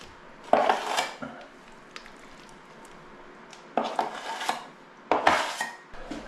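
A trowel scoops joint compound out of a bucket in three separate bursts of wet scraping and clunking against the plastic, close by, with quiet pauses between.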